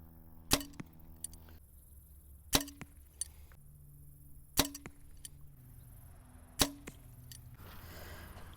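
Four sharp, loud slaps, about two seconds apart, as Carbon Express Maxima Photon SD arrows shot from 20 yards strike a cinder block target, each with a short ringing tail and a quiet outdoor background between hits.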